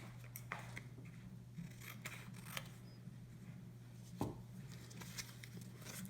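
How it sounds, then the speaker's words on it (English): Scissors cutting out cardstock cards, a series of quiet, sharp snips at irregular intervals over a steady low electrical hum, with one firmer cut partway through. "now I'm gonna quick cut out those cards."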